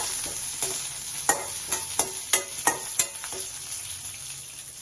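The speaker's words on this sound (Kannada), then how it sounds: "ಅದನ್ನು ಕೂಡ ಚೆನ್ನಾಗಿ ಒನ್ ಟೈಮ್ ಫ್ರೈ ಮಾಡಬೇಕಾಗುತ್ತೆ" Unpeeled garlic fries in hot oil in a pan for bele sambar: a steady sizzle with about a dozen sharp spatula scrapes and taps in an uneven rhythm, close and clear, with no talking.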